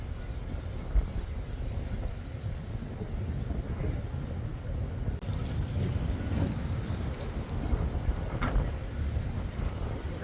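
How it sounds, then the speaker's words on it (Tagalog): Strong wind buffets the microphone outdoors among cherry blossom trees, a steady low roaring rumble with gusts swelling and easing over the whole stretch. "Malakas ang hangin."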